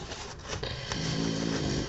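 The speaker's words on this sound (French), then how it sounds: "Si vous entendez ronfler, c'est la boubou" A tired female dog snores close by, with low rumbling breaths that grow louder and steadier in the second half, in an otherwise quiet room.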